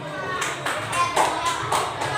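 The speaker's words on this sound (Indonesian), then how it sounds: "Tepuk tangan dulu" A class of students claps together at a teacher's prompt, a brief burst of rhythmic group clapping with several loud surges over about two seconds, and voices murmur underneath.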